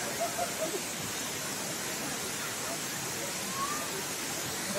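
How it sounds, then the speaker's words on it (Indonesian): Steady broadband rush of the Curug Cilember waterfall near Bogor, a constant hiss of falling water filling the whole stretch at an even level, with faint voices briefly underneath. "Tujuan kita ke pancurannya ya."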